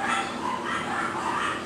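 Attack dogs bark at a gate in the video game Uncharted: Drake's Fortune, with steady, overlapping barks that stay fairly loud throughout and no talking.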